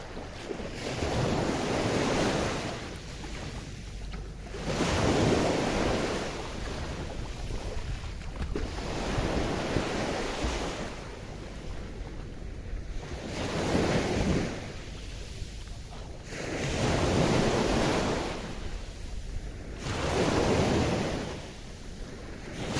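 Ocean waves roll onto a beach in the morning, surging and receding in a steady rhythm every few seconds, loud and close, with wind noise buffeting the microphone throughout.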